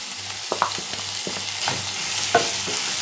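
Chopped tomatoes frying in a hot pan give a steady sizzle, broken by several short knocks and scrapes of stirring, with no one talking.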